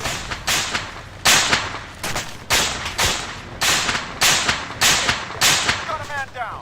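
Gunfire in the video game ARMA3, a steady series of sharp, loud cracking shots at a roughly even rhythm, with a few faint background sounds.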